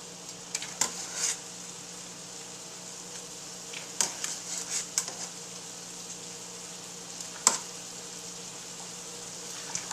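Gnocchi sizzle in butter in a pan, with a steady frying hiss broken by scattered sharp clinks and scrapes of stirring, close and alone without talk.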